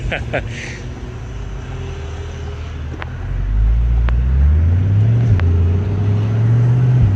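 Chevrolet C8 Corvette cruising with traffic, a steady low engine drone that rises and shifts through gears partway, with road and wind noise throughout.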